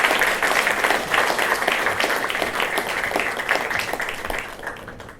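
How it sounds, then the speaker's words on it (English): An audience at a book launch for Benjamin H. Bratton at the Center for Transformative Media claps in sustained, dense applause that holds steady, then fades slightly at the end. "let's give a warm round of applause to Benjamin Bratton"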